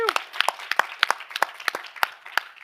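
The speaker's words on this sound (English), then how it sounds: "can we have a round of applause?" Audience applause at an ocean community-building and innovation gathering during COP28, a steady patter of scattered claps across the whole stretch, moderately loud and fairly close, with no talking over it.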